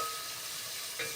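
Onions, garlic and pork fat sautéing in a pan for chicken orzo, giving a steady quiet sizzle with a brief stirring scrape near the end.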